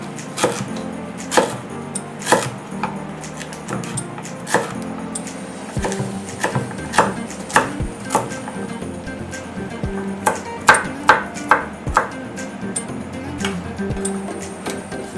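A knife chops food into small pieces on a board in a steady series of sharp, close thuds with irregular spacing, loud and clear throughout.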